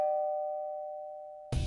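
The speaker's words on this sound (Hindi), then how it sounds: "लो घंटी बज गई है, दरवाजा खोलो" Doorbell ringing in a home, a single sustained electronic chime that rings out alone and fades slowly before other sound cuts in at the end.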